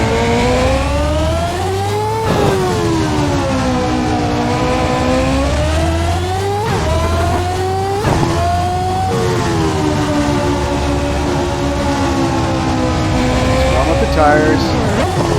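Simulated 1991 Fondmetal Formula 1 car engine in the Assetto Corsa racing game, loud and close, revving high through repeated rising pitch sweeps with sharp gear-change drops, a steady sustained howl throughout.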